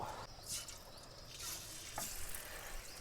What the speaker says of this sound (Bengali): তো এটাকে প্রথমে অল্প ভেজে নেব